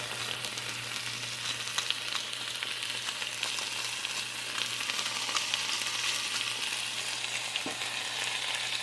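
Salted and peppered breakfast food frying in a pan, with a steady close sizzle throughout and occasional faint stirring clicks, and no talking.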